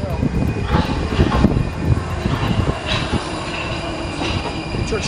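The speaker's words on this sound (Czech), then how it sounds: "když ten vlak přijíždí" A metro train rumbles steadily into a station, with faint squealing of wheels and muffled voices under the noise.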